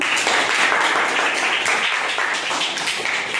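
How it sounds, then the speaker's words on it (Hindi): Kids clap for a correct answer in a home quiz game, a brisk, close burst of hand claps running steadily for the whole span. "फिर तालियां बजाओ।"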